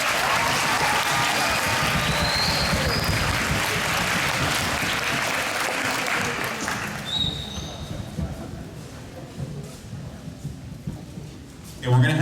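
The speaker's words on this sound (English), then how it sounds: "Let's get one more big round of applause," Loud, dense applause from a school audience at a junior high Veterans Day ceremony fills the first seven seconds, then thins to scattered claps and crowd murmur before a brief burst at the end.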